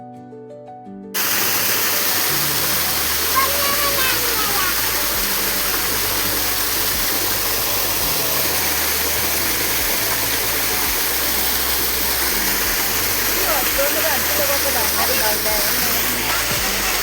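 Forest waterfall rushing continuously, a dense, loud, steady roar of falling water that starts abruptly after a brief quiet moment and holds unchanged throughout.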